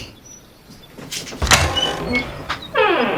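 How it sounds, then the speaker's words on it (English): A door opening in a roleplay scene, with a few close thumps and a rattling slide, ending in a creaking, ratcheting sweep. "You gonna answer the damn door, or do I have to kick it open?"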